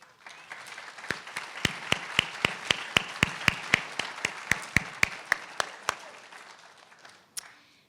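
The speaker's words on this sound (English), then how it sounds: "Graduates, I think your loved ones deserve a round of applause" Families and friends at a spring graduation recognition ceremony applaud, with one loud, evenly spaced clapper standing out over a softer crowd that tapers off near the end.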